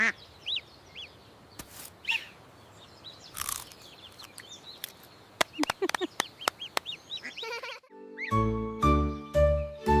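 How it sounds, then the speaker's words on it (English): Ducks quack in short, cheerful bursts over a soft background, followed by bright bell-like musical chimes in a children's song about a duck family and ducklings. "Quack, quack! Quack, quack!"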